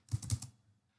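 A short burst of a few quick computer keyboard keystrokes, close and crisp, then quiet.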